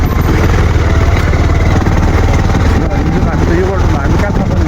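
A large motorcycle's engine runs loud and steady throughout, with a dense low rumble and clattery texture on a rough trip road in Nepal.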